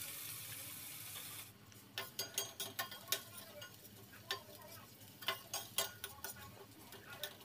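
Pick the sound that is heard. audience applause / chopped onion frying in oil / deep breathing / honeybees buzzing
chopped onion frying in oil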